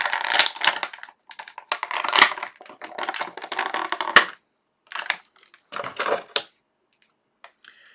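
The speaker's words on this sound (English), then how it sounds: "So we're gonna pop Sunspot out of the packaging" A Marvel Legends Sunspot action figure is pulled from its plastic packaging, with close, crisp crinkling and crackling in irregular bursts separated by brief pauses.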